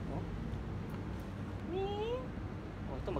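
A pet cat at a veterinarian's gives a single short, faint meow over steady background noise and murmuring voices.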